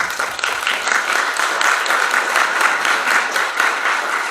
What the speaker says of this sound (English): And applause to all of you.